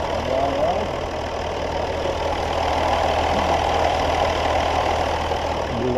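A 4x4 vehicle's engine idling steadily in snowy winter conditions, a continuous low rumble with a faint mechanical knock, close and unbroken throughout.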